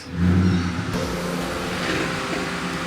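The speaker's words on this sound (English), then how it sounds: "A 2001 SN95 New Edge Mustang Cobra." A 2001 SN95 New Edge Mustang Cobra revs loudly up close, a burst of deep engine rise in the first second settling into a steady strong idle hum throughout.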